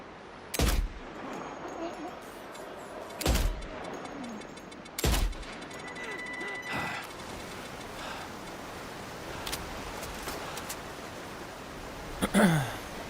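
Mortar fire in the video game Death Stranding 2 comes as four heavy booms a few seconds apart, followed by a low rumbling bed and faint clicks, ending with a sharper distant burst.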